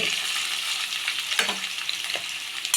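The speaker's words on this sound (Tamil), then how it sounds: "இப்போ கத்திரிக்காய் இங்கே நல்லா வதங்கிட்டு இருக்கு இந்த எண்ணெயிலே கொஞ்சம் வதங்குது" Brinjal sautéing in oil gives a steady, close hiss of frying. A couple of spatula scrapes and stirring strokes cut through it.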